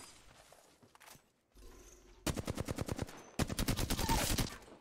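Automatic gunfire in the video game Apex Legends, two loud rapid bursts of evenly spaced shots following quieter scattered game sounds and a brief lull.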